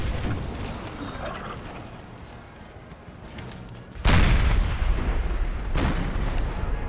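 Artillery cannons fire in a battle for Charleston in Empire: Total War with an American Civil War mod, two heavy booms landing after a low rumble of battlefield noise and trailing into a sustained roar.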